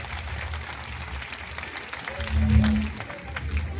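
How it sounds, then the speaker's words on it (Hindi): A gathering in Chomu applauds to welcome a guest, the clapping moderately loud but somewhat distant, with a low hum and a brief swell partway through. "जोरदार ताली बजाकर हम स्वागत और अभिनंदन करें"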